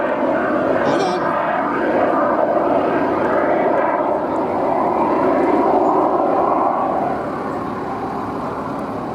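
A Foxjet sailplane's engines roar at a military airshow, a loud steady jet drone holding for several seconds before easing slightly, with a commentator talking over it.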